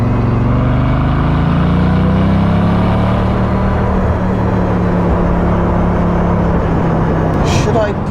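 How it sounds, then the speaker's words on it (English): A hypercar accelerates hard in a smooth, sustained engine surge with a rising drone, loud and close, lasting about eight seconds. "Oh, there's something about these cars, the way they accelerate."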